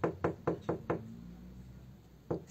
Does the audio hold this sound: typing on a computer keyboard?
no